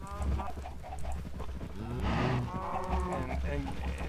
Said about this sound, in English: let's see if we can get these cows to breed